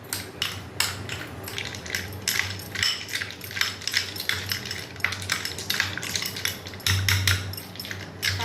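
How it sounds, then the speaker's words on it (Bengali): A spoon stirs ice cubes in a mixture while unsalted butter is being made, giving continuous close clinks and rattles of ice against the bowl with no speech. "বরফগুলো দিয়ে এবার চামচ দিয়ে নাড়তে থাকবো যতক্ষণ না এর কালার চেঞ্জ হয়"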